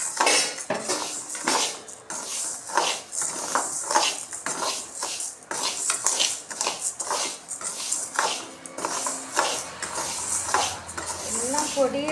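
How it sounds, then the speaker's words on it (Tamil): Food is stirred in a pan with repeated metal scraping and clinking in a steady back-and-forth rhythm, close and fairly loud, with a voice speaking intermittently over it. "இது கிண்டிக்கிட்டே இருக்கணும் ஃப்ரெண்ட்ஸ்."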